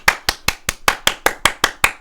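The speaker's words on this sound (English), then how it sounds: "Here is a gif of some celebrity clapping." Celebrity clapping, about ten sharp, evenly spaced claps in steady rhythm, close and crisp with no talk.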